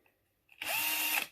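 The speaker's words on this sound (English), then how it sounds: "So I'm keeping the drill straight," A power drill fitted with a 3mm bit bores into a piece of wood held in a vise, starting abruptly after a near-silent moment and then whirring loudly and steadily at close range with no talking.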